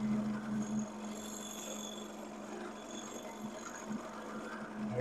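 Wood turning on a lathe is worked with a light abrasive touch to knock off high points, giving a continuous soft rasping scrape over the steady hum of the spinning lathe, with no voices.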